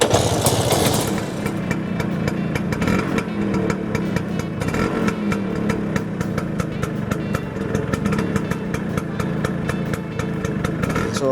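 A 1965 Vespa VBB 150 scooter's small two-stroke engine kicks into life and settles into a steady, close, buzzing idle with a faint rhythmic ticking running throughout.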